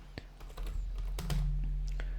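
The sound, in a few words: typing code on a computer keyboard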